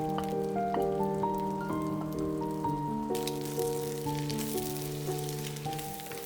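Chinese broccoli stir-fried in a hot wok for pad see ew gives a steady, close sizzle that thickens partway through, running under sustained background music.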